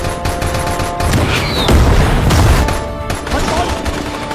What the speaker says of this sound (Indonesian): sebuah basoka membidiknya. Ledakan terjadi